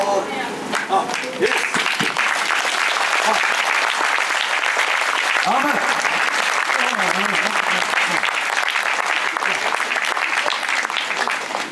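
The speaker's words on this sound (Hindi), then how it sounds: "दुनिया के सभी लोगों के लिए ताली बजाइए" A church congregation applauds during a sermon: steady, dense clapping from many hands continues loudly throughout, with a brief voice near the start.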